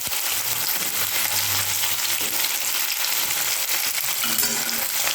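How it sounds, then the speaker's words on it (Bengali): Pieces of Katla fish frying lightly in hot oil, a steady broadband sizzle throughout with occasional soft low clatter, close and fairly loud with no talking. "হালকা করে ভাজবো।"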